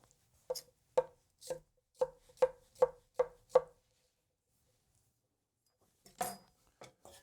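A Tojiro DP Classic kiritsuke knife slices salad vegetables on a cutting board in a quick even run of about eight crisp chops, then a pause and a few more cuts, close and alone.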